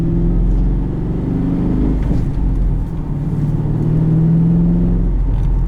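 A 2004 Pontiac GTO engine drones and builds as it accelerates, a broad low rumble that rises in pitch, dips briefly, then climbs again, heard from inside or close by.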